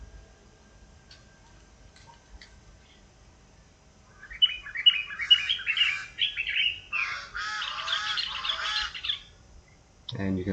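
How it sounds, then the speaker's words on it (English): Small birds chirp and twitter in a quick, busy burst after a quiet stretch, fairly close, then fade out. "And you can listen to the birds in the meanwhile."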